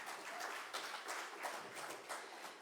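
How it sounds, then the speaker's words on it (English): Short burst of audience applause at a conference, steady crowd clapping, fairly faint and distant throughout. "Can we give another round of applause,"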